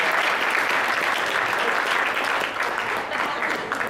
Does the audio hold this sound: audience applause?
yes